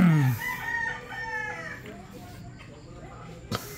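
A rooster, one of the chickens bought for a road trip, lets out a loud, close crow that tails off into clucking and some background voices.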